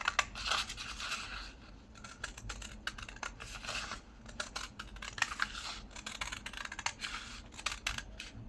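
Scissors cut a paper square out of scrap paper for a handmade Christmas junk journal. There is a close, rapid series of crisp snips and paper rustles, uneven in rhythm, and there is no talk.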